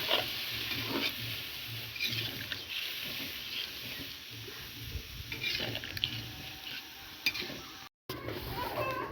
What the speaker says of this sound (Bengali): এই দেখেন আমরা ফুলছি, কি সুন্দর করে ফুটছে, পুরো তরকারিতে তেল ছেড়ে দিয়েছে।